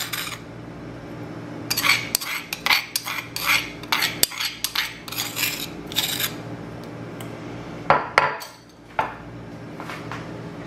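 Crushed garlic, oil and lemon juice are stirred together in a bowl, with close, repeated clinks and scrapes of a utensil against the sides in uneven bursts.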